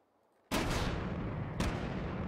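Two loud, booming gunshot blasts in the video game H3VR, about a second apart, each with a long noisy rumble that carries on afterward.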